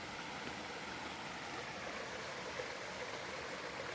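River water flows over boulders near Philomène Waterfall, a soft, steady broadband rush heard from a short distance, unchanging and with no voices.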